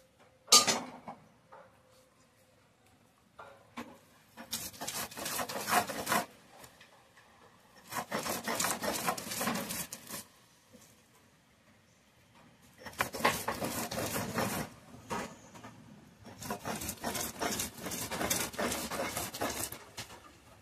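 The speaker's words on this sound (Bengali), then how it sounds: "চিংড়ি মাছের সাথে একসঙ্গে বেটে নেওয়া হবে।" Prawns and fried onion ground together on a grinding stone, giving repeated bursts of rough rasping and rubbing strokes separated by short pauses, close and fairly loud, with no talking.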